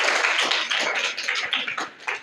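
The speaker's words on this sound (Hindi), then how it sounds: "इनके लिए आप तालियां बजाइए।" Students at a junior high school in Varanasi clapping for a correct quiz answer, a loud, close, dense burst of hand claps from a group that thins out toward the end, with no talking.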